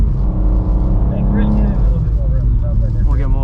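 A 2023 BMW M2 with an 8-speed automatic drifting sideways on a wet skidpad, its engine droning loudly and steadily with shifting pitch as it climbs from first into second gear, with a voice talking over it.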